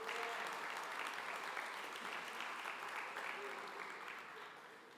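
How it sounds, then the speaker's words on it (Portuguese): A Portuguese-language church congregation gives a round of applause, a dense, sustained wash of many hands clapping that fades slightly toward the end, with voices mixed in under it. "Você pode dar uma salva de palmas ao Senhor?"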